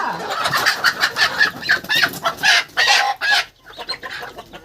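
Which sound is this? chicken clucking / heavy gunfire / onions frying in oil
chicken clucking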